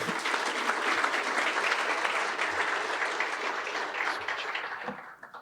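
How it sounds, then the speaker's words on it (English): An audience applauds Hall of Fame inductees at a USA Water Polo induction ceremony, a dense, sustained round of clapping that stays loud throughout and thins only at the very end. "So congratulations, a big round of applause for them."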